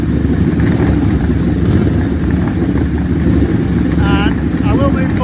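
Vintage and classic motorcycles at a club hillclimb idle and rev loudly close by in a steady rumbling drone, with voices talking over the engines.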